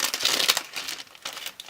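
A small paper pouch crinkles close up as a paper flower is pulled out of a scrapbooking parcel, giving a busy, rustling crackle with a few sharper crunches.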